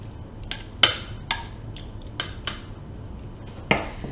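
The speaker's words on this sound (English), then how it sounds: "And I'm mixing this a little bit." Ham, mashed potato and pineapple casserole ingredients being mixed, with scattered sharp utensil clinks against a dish, a handful of separate taps spread through the quiet stretch, close and moderately loud.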